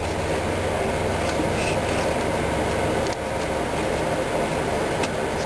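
Bean-filled gourd rain stick is tilted, giving a continuous, close rushing rattle of beans trickling through the interior, steady for several seconds with a brief dip partway through.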